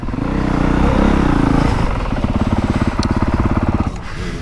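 A 2025 Honda CRF450R dirt bike on the RT62MX motocross track gives a loud, close engine drone that drops into a rapid, throbbing chug at low revs.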